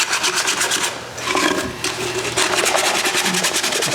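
An edge is sanded with 320 grit sandpaper in quick, rhythmic back-and-forth rubbing strokes, close and fairly loud, with a fine raspy scratch.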